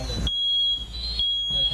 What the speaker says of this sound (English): We'd have to wait 42 minutes for the first ionization detector to go off.